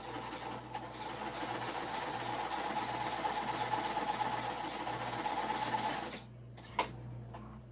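A sewing machine stitches fabric at a steady, continuous whir for about six seconds, then stops abruptly, leaving a faint room hum and a single small click afterward.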